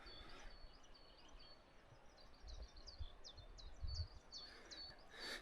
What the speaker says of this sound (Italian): Si chiama Lui e si riconosce appunto per questo cinguettio che fa cif ciaf cif ciaf cif ciaf